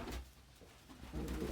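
Pet doves coo softly at close range, two low throaty calls at the start and end separated by a short pause.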